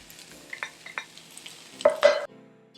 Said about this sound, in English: So I mixed the black beans in here.